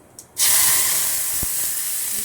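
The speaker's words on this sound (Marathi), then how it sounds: "आता हे तडतडले फोडणी" Mustard-style spice tempering for fasting kadhi vade bursts into a loud, steady hiss and sizzle in hot oil after a brief quiet start, continuing close and unbroken.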